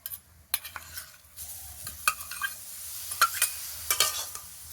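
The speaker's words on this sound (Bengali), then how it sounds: "নারকেলের পুরটা কিন্তু একদমই হালকা আছে নেড়ে চেড়ে হালকা একটু পাক দিয়ে নিতে হবে" Coconut and jaggery filling stirred in a wok over a clay stove for patishapta, with a soft sizzle underneath and irregular scraping clinks of the spatula against the metal, close by and with no talking.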